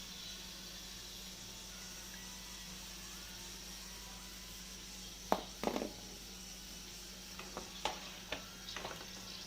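Puris fry in hot oil for pani puri, a soft, low bubbling sizzle in the background, broken by a few sharp clinks and taps from a utensil in the second half.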